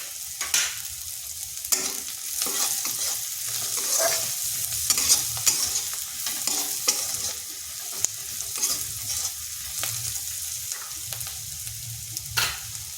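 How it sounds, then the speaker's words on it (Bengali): Sliced onion fries in a pan with turmeric, coriander powder, roasted spice mix and chili powder, giving a steady sizzle broken by repeated scraping strokes of a spatula, close and without talk. "পেঁয়াজটা আমার ভাজা হয়ে গেছে"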